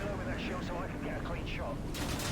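Gunfire in Call of Duty: Modern Warfare 2, a busy clatter of game shots and noise running under someone talking, with a sharper burst near the end.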